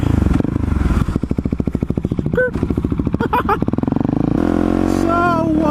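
Motorcycle doing a wheelie and then a stoppie, a loud close engine with pulsing revs and throttle changes, with scrapes and clatter throughout.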